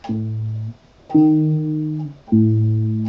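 Three pairs of notes forming a tritone interval sound together, each held about a second with short gaps between, a clear, tense-sounding interval played loudly with no voices.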